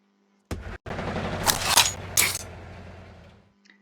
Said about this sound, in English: And then bring out the flak guns.